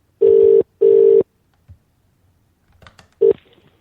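A phone line sounds two long, steady tones, then falls quiet, then gives a short final beep after some faint handling noise.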